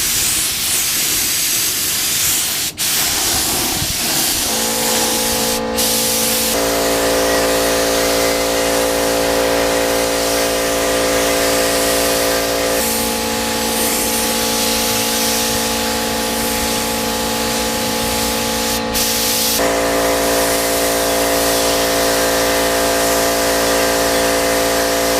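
Spray gun laying down a final clearcoat on a car under restoration, a steady loud hiss running almost continuously with a few brief breaks and a faint mechanical hum beneath, no talking.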